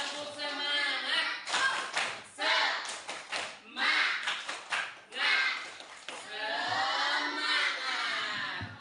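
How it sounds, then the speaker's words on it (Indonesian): Group rhythmic clapping in an Indonesian school "tepuk semangat" cheer, several bursts of claps by students in a short pattern, loud and close, mixed with shouting voices. "Kalau tepuk semangat 1 2 3. Tepuk semangat."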